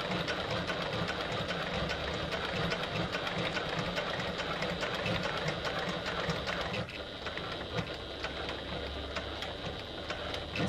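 Janome HD9 sewing machine stitching fabric, a steady continuous mechanical whir with rapid needle ticking, close and even throughout.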